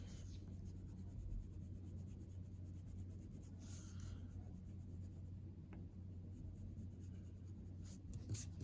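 A pencil lightly shading inside a cartoon skull drawing gives a soft, steady scratching that runs continuously, with a faint low hum underneath.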